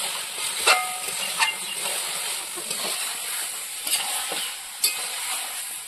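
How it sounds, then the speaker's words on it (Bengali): Chicken curry meat sizzles and hisses steadily in a pan as it releases its oil, with several sharp clinks and scrapes of stirring breaking through the continuous frying noise. "কি সুন্দর মাংস থেকে একটা তেল ভাব বানাচ্ছে"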